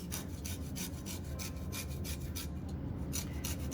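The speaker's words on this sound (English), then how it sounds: "And this is lemon zest. Let me show you how I am doing this." Lemon being grated for zest, a quiet series of rhythmic scraping strokes against the grater, repeating evenly about three times a second with no voices.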